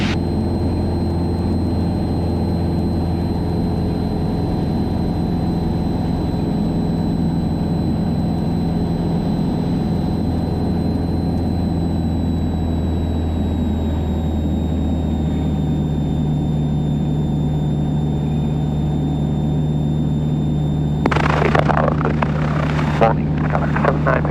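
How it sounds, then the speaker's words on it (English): Piper Warrior PA-28-161 light aircraft in flight, its engine droning steadily and loud throughout as a continuous cabin hum, with a few brief rustling bursts near the end. "The aircraft is barely climbing"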